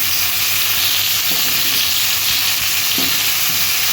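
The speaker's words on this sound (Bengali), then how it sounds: "এখন আমি ডাঁটাগুলো একটু ভেজে নিচ্ছি।" Drumstick pieces frying in oil in a pan, giving a loud, continuous close sizzle with a few light stirring knocks scattered through it.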